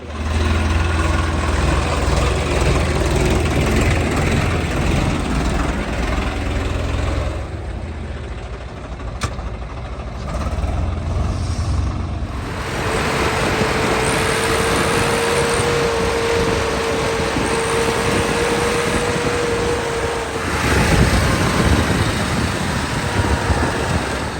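A 2017-model 855 tractor engine runs steadily, a constant low rumbling drone that shifts slightly in pitch partway through, close and loud with no talking.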